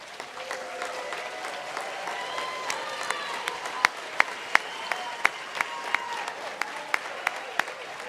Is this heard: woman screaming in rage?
no